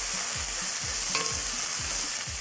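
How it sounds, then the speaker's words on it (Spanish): Caramelized onion sizzles steadily in a frying pan for a burger topping, with a spoon scraping through it in regular strokes, close and loud, and no voices. "Vamos a moverla como por un minuto más."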